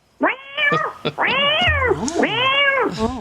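A man convincingly imitates a cat, giving a series of drawn-out, wavering meows up close, some rising into a whiny yowl.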